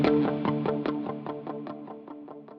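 An electric guitar runs through stacked pedalboard delay and distortion effects, with a rapid run of picked notes repeating in quick rhythmic echoes that gradually fade, played close and without talk.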